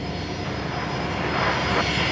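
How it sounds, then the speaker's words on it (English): A Singapore Airlines jet airliner on the runway at Brisbane Airport, its engines giving a steady, loud, broadband roar that swells slightly toward the end. "Singapore's just about to line up on runway right. Should see that once they're airborne."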